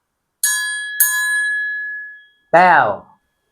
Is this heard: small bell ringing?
yes